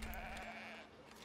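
Sheep bleat in the farming-sim video game Foundation, where a large flock has been spawned; a steady, faint bleating drone with a sustained tonal cry runs through the short stretch, no talk.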